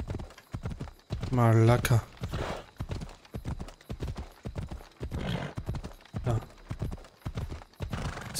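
Horse hooves clip-clop steadily in Assassin's Creed Odyssey, a rhythmic trotting beat running throughout, with a loud horse whinny near the start and someone talking over it.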